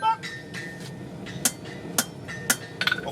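Hammer blows on metal at a blacksmith's forging demonstration, several sharp ringing strikes spaced about half a second apart, close and clear, with a quick cluster of lighter taps at the end.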